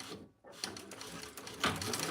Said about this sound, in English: I'm just going to stitch across the open end where I just turned it